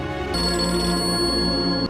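A telephone ringtone sounds in a tense domestic drama scene, a steady electronic ring with bright sustained tones that starts abruptly and holds for well over a second before cutting off, loud and close with no talking over it.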